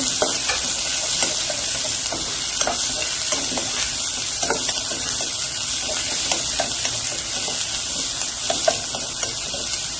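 Finely chopped onion sautés in hot oil for white sauce macaroni, a dense continuous sizzle with frequent light stirring scrapes and ticks, close, loud and unbroken, no voices.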